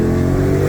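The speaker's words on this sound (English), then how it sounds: "You hear that exhaust?" Ford GT500 exhaust revving, a loud, steady, close engine rumble in one brief continuous burst.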